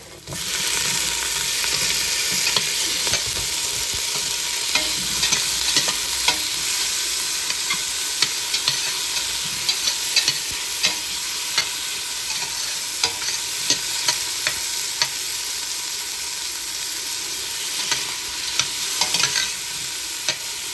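Tomatoes and onions sizzle in a hot pan as a utensil stirs them, with frequent scraping clacks over a steady close frying hiss and no talk.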